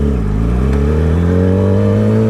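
A Yamaha 600cc motorcycle engine runs loud and close while being ridden, a steady droning roar that climbs gradually in pitch, with no voices.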